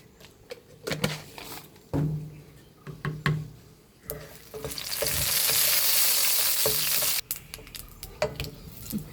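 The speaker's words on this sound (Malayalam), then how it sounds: "കടുകെല്ലാം പൊട്ടി" Mustard seeds pop and splutter in hot oil, with sharp crackles and scraping stirs, then a loud sustained sizzle as more goes into the pan.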